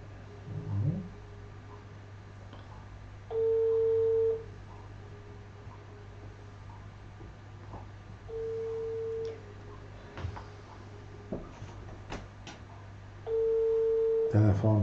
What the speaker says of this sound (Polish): Telefony do Gdańska teraz, do Rafała.